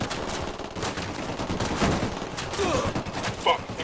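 Gunfire in the video game Ghost Recon Wildlands, with rapid overlapping shots and cracks in a burst-like fusillade over a busy battle background, moderately close, with faint voices underneath.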